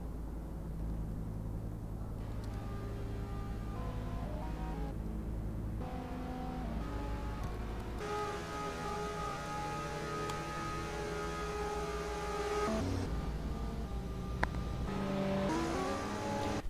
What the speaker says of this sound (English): The cars are ready. They're revving.